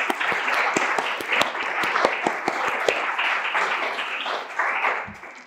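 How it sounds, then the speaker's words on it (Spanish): An audience in a Spanish talk event applauds the author, a steady wash of clapping with sharp individual claps standing out, close and sustained throughout. "Un aplauso para ella."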